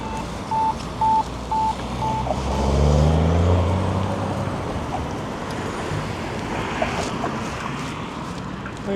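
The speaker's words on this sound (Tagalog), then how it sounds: "dito po sa Latvia, sobrang lakas ng hangin" Strong wind gusting outdoors on a street in Latvia, a steady broadband roar with rumbling low buffeting swelling around the middle; a few short, regular beeps, like a crossing signal, sound early on.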